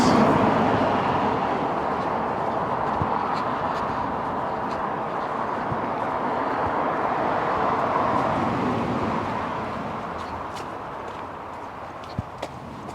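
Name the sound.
traffic noise from the A48 road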